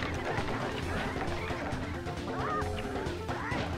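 Chickens cluck and squawk in the Sly Cooper video game, a few short bird calls rising over a busy layer of game sounds and music, moderately loud.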